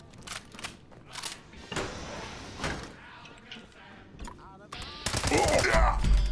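Gunfire in the video game Fallout 76: several sharp, loud shots in quick bursts, separated by clicks and handling noises, ending in a dense, rapid volley.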